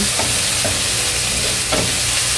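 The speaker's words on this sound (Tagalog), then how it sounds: "Haluin lang natin hanggang sa mag-mix na yung bawang, sibuyas at saka yung kamatis." Garlic, onion and tomato sizzle steadily in a hot frying pan as they are stirred for ginisang ampalaya, with a few soft scraping strokes over the continuous close frying hiss.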